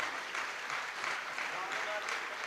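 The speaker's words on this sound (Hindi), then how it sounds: "एक बार जरा जोरदार तालियां बहुत मन की बजनी चाहिए" An audience at a Hindi poetry gathering claps in a steady, dense wash of applause, moderately loud and continuous throughout the brief moment.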